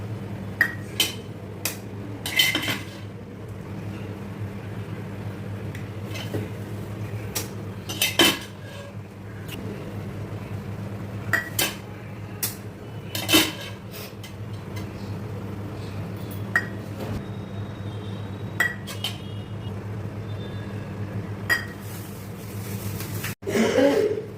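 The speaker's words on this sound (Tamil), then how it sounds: "ஒரு முட்டையாக உடச்சி இந்த மாதிரி கிணத்துல ஊற்றி ஊற்றணும்." Eggs are cracked one at a time into boiling gravy for a Tamil egg kuzhambu, heard as a series of sharp, separate taps and clinks against a pan over a low, steady background hum.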